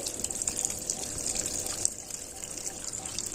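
Water runs steadily into a washing machine drum as it fills before the wash cycle, making a soft, even trickling hiss that stays faint and continuous throughout.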